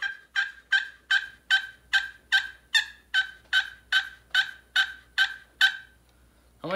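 A handmade turkey slate call worked with a striker and sandpapered surface gives a run of about thirteen sharp, evenly paced yelps, loud and close, with no talking over them.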